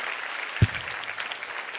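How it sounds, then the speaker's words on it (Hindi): An audience at a Sunday church service claps in a dense, hissing patter with one sharper clap standing out near the start, moderately loud and close. "ताली बजाओ"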